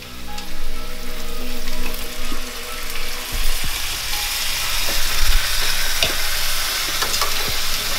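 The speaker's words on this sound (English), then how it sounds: "So now we about to sear the other side for 10 minutes." Oxtail sears loudly in a hot pan with a dense, continuous hiss and crackle, close up, with a few clinks and scrapes and no one speaking.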